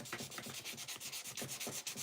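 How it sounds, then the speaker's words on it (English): Cured epoxy resin being sanded to key the surface for a second coat, giving steady rhythmic abrasive rubbing strokes, close and continuous with no talk. "I know this is a bit boring watching someone sanding resin"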